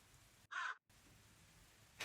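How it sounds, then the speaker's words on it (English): A single crow caws once, loud and harsh, as an ambient effect in a tabletop game, set against a quiet hiss with a brief cut to silence right after it. "you hear many caws from around you"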